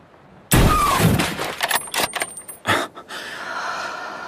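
A sniper rifle shot cracks out loud and sharp near the start, followed by a ringing whistle and scattered rattling echoes that fade over a few seconds, with no talk.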